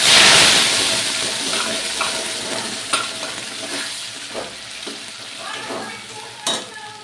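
Sola kochu paste sizzles in mustard oil with nigella seeds, a steady close frying hiss broken by scattered clinks and scrapes of a spoon stirring in the pan.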